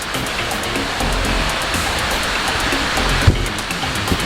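Steady, full rushing roar of water at Mae Kae waterfall in Ngao district, a dense continuous wash that stays loud and even throughout with no pauses.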